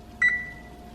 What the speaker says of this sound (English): We're going to set our kitchen timer